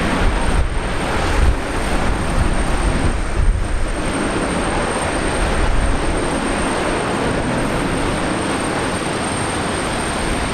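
A Jetstar Boeing 787 arriving at Brisbane Airport from Tokyo Narita gives a steady, broad roar that holds loud and constant throughout, with no voices.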